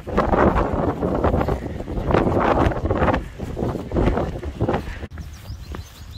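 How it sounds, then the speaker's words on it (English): Strong gusting wind on a rocky, wet hillside along the West Highland Way, buffeting the microphone in loud rushing waves that ease briefly before dropping off near the end. "That's some wind, I'll tell you."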